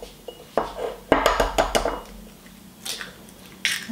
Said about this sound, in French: je casse toujours mes œufs dans un saladier